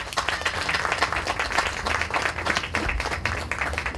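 Steady, fairly loud applause from an audience at a round-table event in Peru, welcoming a speaker with continuous dense clapping throughout.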